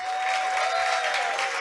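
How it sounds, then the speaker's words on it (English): Studio audience applause on a live radio podcast broadcast, a short, steady wash of clapping at moderate level with a faint sustained tone beneath it. "a big round of applause for the one and only Jared Payton."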